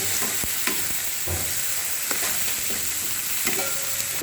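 Tomatoes stirred into dal soup in a hot pan, a steady loud sizzle broken by repeated scraping and light knocks of the spoon, close up with no talking.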